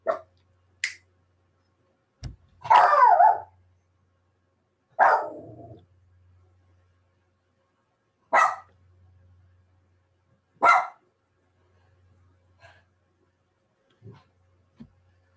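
A dog barks several times, single sharp barks spaced apart with silence between, fairly close.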